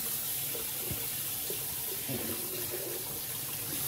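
Food being washed under a running kitchen tap at home after a market trip, a steady close splashing of water into a sink with no talk.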